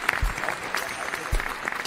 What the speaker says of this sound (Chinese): 我觉得此处应该给他点掌声。